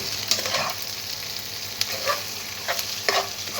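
Okra tossed into a pan of softened onions sizzles steadily while a spoon scrapes and stirs it in several quick bursts, close and busy with no voices.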